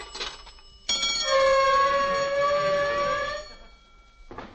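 A pay phone sets off a loud, sustained alarm bell after a slug is dropped in, ringing steadily for about two and a half seconds before cutting off, framed by brief talk on an old radio comedy show.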